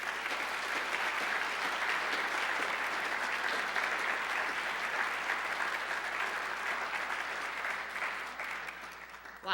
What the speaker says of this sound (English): Please join me in welcoming a McHenry County thunderous applause for Dr. Suzanne Malec McKenna.